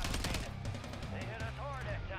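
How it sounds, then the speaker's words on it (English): Rapid gunfire bursts in Call of Duty Warzone, a dense, loud game firefight with overlapping shots, mixed with excited voices talking over the action. "he's shooting me through the smoke"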